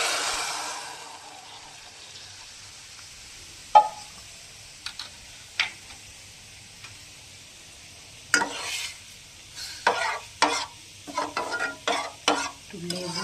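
Cold dal poured onto frying fish in a pan and stirred, a faint sizzle under a series of clattering spoon scrapes and knocks that grow busier toward the end.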